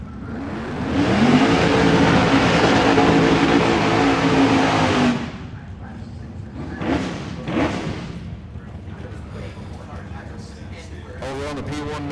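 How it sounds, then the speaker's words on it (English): A Chevrolet Malibu no-prep drag car on street tires launches at Ozark Raceway Park, its engine roaring loud and steady for several seconds before cutting off, followed by distant crowd and track noise with a voice over the top. "Check out the wheelie of this Malibu coming up right here"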